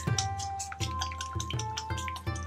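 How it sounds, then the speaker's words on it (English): Fish sauce dripping and trickling by the tablespoon into a bowl for homemade kimchi, a series of close, evenly spaced liquid drips and pours. "4 tablespoons of the fish sauce."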